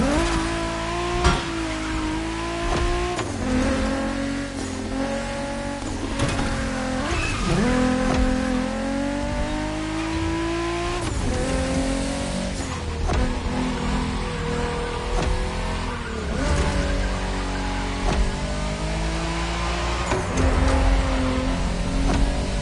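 A car engine drones continuously in the racing game The Crew Motorfest, its pitch climbing and dropping through repeated gear changes, with occasional tire squeal. It stays steady, close and loud throughout, with no voices.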